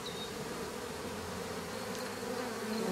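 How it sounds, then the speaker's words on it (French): Honey bees pour out of a small swarm hive box, a dense continuous buzzing hum that stays steady and close throughout, with no voices. "Donc là on voit les abeilles qui sortent."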